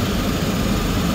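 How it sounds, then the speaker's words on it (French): A Twin Otter aircraft engine in Microsoft Flight Simulator 2020 gives a loud, steady, dense droning roar with no variation, filling the whole short stretch without any talking. "le moteur est un peu fort quand même"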